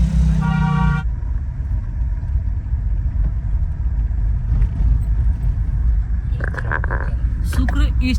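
A long, loud car horn blares at the start as a car drives through evening traffic in Uttar Pradesh, India. Steady engine and road rumble continue inside the car, with voices and a few brief horn toots near the end.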